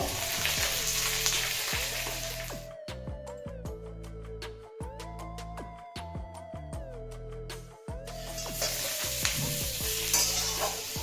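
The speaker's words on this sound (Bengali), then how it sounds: "আমি বেগুনগুলো দিয়ে একটু নেড়ে নেব" Eggplant being stirred and fried in a hot wok with oil, a steady sizzle with repeated scraping strokes running through the whole stretch, close and fairly loud, with no talking.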